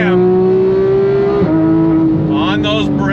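A 2015 Porsche 911 GT3 with modifications and a 7-speed gearbox, revving hard in second gear toward 9,000 RPM, a loud sustained rising howl from inside the car, dipping briefly at a shift before climbing again.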